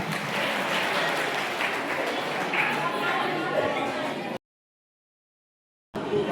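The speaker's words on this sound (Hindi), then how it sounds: "उनका जोरदार तालियों से स्वागत" Audience applause welcoming a guest speaker at a Birsa Munda Jayanti gathering, steady dense clapping mixed with crowd chatter for over four seconds before cutting to silence, then resuming briefly.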